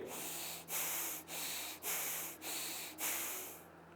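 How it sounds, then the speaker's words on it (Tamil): Deep, slow exhalations during a yoga breathing exercise, five long breathy rushes in a steady rhythm with short pauses between them, close to the microphone and fairly loud, with no talk. "நல்லா மூச்சை உள்ளெழுத்து மூச்சை வெளியே விடுங்க ஒரு 3 முறை"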